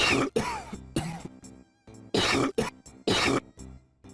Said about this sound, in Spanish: Aquí hay alguien con una terrible tos.